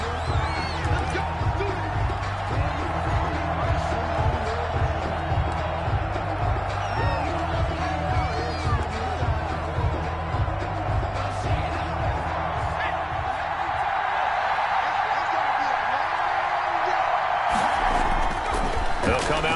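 Stadium crowd at an NFL game between the Las Vegas Raiders and Kansas City Chiefs, a loud continuous roar of cheering and clapping that swells near the end, with a commentator talking over it throughout.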